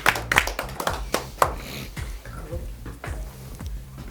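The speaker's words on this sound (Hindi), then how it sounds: "एक बार जोरदार तालियां बजा दीजिए अपने लिए आप सब।" Crowd gathered for an election ground report in Mathura claps in short, uneven bursts of close hand claps that thin out over a few seconds.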